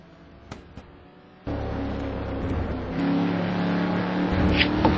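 Racing cars at the Paul Ricard circuit in an STC Black Cup round, engine drone rising sharply after a quiet start and holding loud and steady, with a few brief clicks early on.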